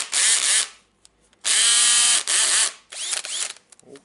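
A Makita DHP458 cordless drill in drilling mode whirs in three loud bursts, each starting and stopping sharply, with a ratcheting, geared whine and short quiet gaps between runs.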